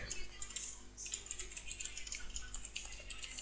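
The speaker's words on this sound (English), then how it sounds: "You just type it like this." Someone types on a computer keyboard in quick, light, irregular clicks at close range, soft and with no talking.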